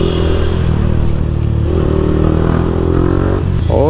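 A motorcycle engine runs steadily at 35-40 km/h, a loud continuous rumble with a rising rev near the end.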